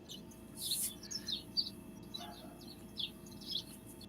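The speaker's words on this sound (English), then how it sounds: "does somebody have baby birds in the background?" Faint, high chirps from baby birds come in short irregular bursts over a quiet hiss, with a steady low background hum.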